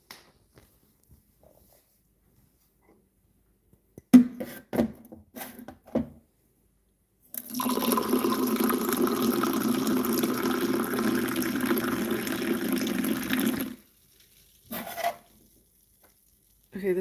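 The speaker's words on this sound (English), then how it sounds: "I'm gonna get a glass of water." Water from a tap runs into a drinking glass for about six seconds, quiet and close. Scattered clicks and handling sounds come before and after.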